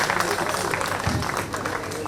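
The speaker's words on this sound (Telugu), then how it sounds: "వారికి అందరూ కూడా గట్టిగా చప్పట్లు వారికి అభినందనలు తెలపవలసిందిగా కోరుకుంటున్నాను" An audience at an Independence Day celebration applauds an honoured best employee, a dense, steady clapping from a crowd heard over an amplified voice speaking throughout.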